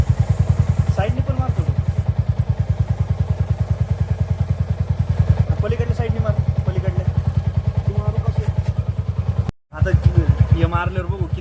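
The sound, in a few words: motorcycle engine running in gear during chain cleaning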